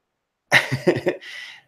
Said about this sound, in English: This guy's one pack of cigs away from a fatal coughing fit.